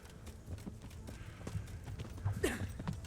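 Horse hooves clip-clopping in the medieval game Kingdom Come: Deliverance, a fairly faint, uneven run of hoof knocks with no voices over it.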